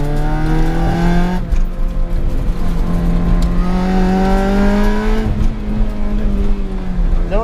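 Car being rally-driven on a snowy race track day without ABS, the engine loud and close, revving up and down through gears in repeated rising sweeps, with faint talk underneath.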